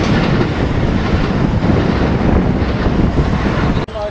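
A continuous loud rumble of a train moving on the TGV Nord tracks in Paris, steady and close, with gusty wind buffeting the microphone throughout.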